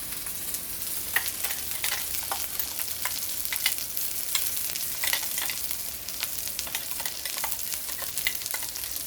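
Noodles and oil frying on a barbecue plate for Malaysian mee goreng, a steady close sizzle with crackling spits and stirring scrapes throughout, no talk.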